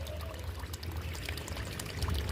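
Water is poured steadily into a pet pigeon's drinking container, a soft continuous splashing and gurgling close by, fairly quiet.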